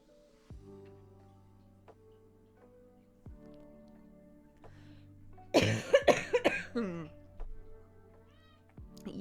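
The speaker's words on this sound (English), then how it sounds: "Sorry for all the coughing." A person coughs in a harsh, clustered burst of several coughs midway, close to the microphone, over a quiet background of soft ticking and faint tones.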